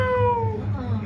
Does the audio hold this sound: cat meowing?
yes